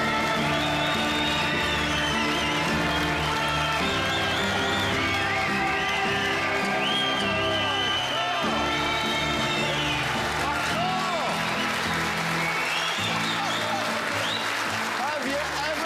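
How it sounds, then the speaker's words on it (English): A Top Gear studio audience breaks into sustained applause and cheering with whoops, a dense crowd wash running throughout with music or voices layered underneath. "I want a huge round of applause"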